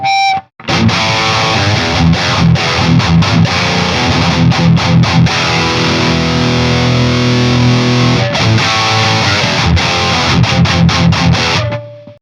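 Heavily distorted high-gain electric guitar, a 2022 Squier Affinity HSS Fat Strat, chugs through palm-muted riffs, loud and close, with rhythmic chopped notes and a few sustained chords, no talking.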